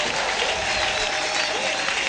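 Church congregation applauding, steady dense clapping from a large crowd that fills the room evenly, with voices mixed in beneath.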